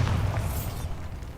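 A deep, booming Bombarda blasting-spell explosion from the Hogwarts Legacy video game, a loud, bass-heavy burst that rumbles and fades over about a second.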